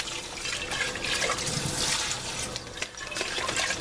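Cold tap water runs steadily and noisily over freshly drained pasta in a colander in a kitchen, a close, continuous splashing rush.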